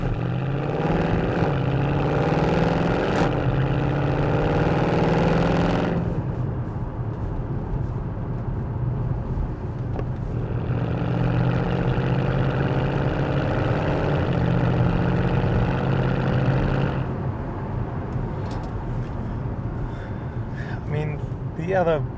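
A 2012 Mercedes C63 AMG coupe (451) being driven, its engine and exhaust a steady low rumble that rises and falls with gear changes beneath continuous spoken narration.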